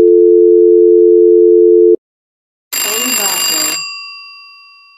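A steady electronic tone stops, then after a short silence a bright phone ring sounds and fades away.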